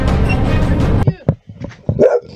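A dog barks at a bivouac campsite in Morocco, with a few sharp close barks and yips in a short burst after a stretch of people talking.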